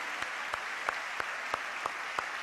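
Church congregation at a Christian centre in Mar del Plata applauding, a steady wash of clapping with periodic louder claps recurring about every third of a second, moderately distant and fairly even in level.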